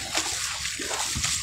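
Floodwater rushing through a river near a bridge in Marikina, a loud, steady broadband roar of churning, splashing water that fills the whole moment without letup.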